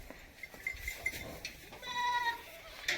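A goat on a farm in Badaun, Uttar Pradesh, gives a short, fairly close bleat amid faint background clatter and shuffling.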